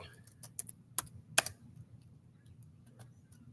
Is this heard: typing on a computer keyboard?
yes